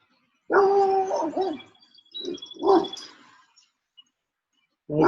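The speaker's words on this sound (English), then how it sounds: "How many times are you going to bark at him?" A dog barks at a man passing back and forth: a long, loud bark followed by two shorter ones, then a pause before another bark begins, heard close up with no talk.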